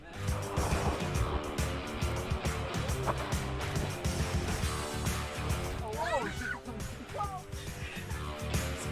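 A Kia rental car bumps along off-road on an unexpected dirt detour, its engine and rumbling suspension loud and steady throughout, with people talking inside the cabin.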